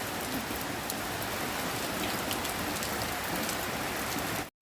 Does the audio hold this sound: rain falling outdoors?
yes